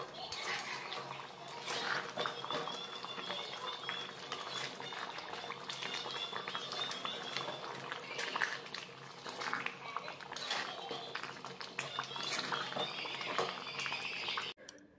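A pot of meat curry simmers after hot water has been added, giving a faint, continuous bubbling and gentle liquid churn with no voices over it.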